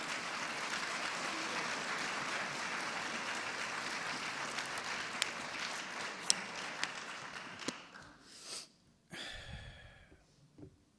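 Church congregation claps in sustained, dense applause for about eight seconds before it thins out, with a few breaths and small noises close to the microphone as it ends.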